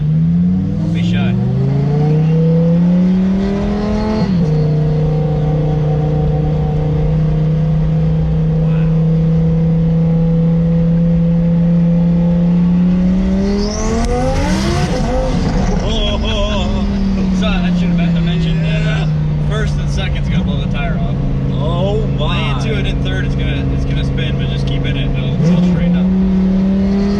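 Twin-turbo Lamborghini engine revving hard, the pitch climbing through high RPM and dropping at each shift, loud and close for the whole stretch, with voices talking over it.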